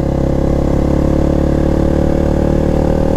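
A KTM Duke 390 motorcycle engine roars loud and close in a steady, continuous drone at high revs, with no voices.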